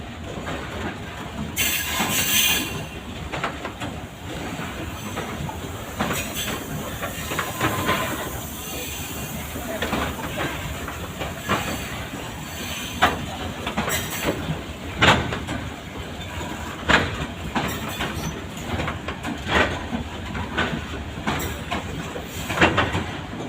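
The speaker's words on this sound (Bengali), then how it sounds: "এই হলুদ কালারের ট্রেনটি যাচ্ছে।" A long yellow train pulls out of Rajbari railway station bound for Dhaka, giving a loud, close, continuous rumble with hissing, clattering and intermittent metallic clicks throughout.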